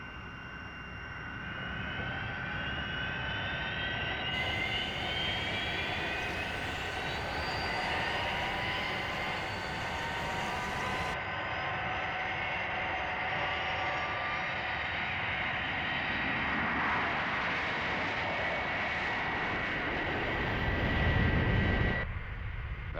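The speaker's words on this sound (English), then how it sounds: "That's certainly some aircraft." The Fireflash aircraft takes off and climbs, a sustained roaring engine drone with a rising whine that holds steady, swells loudly near the end and then cuts off abruptly, with no voices.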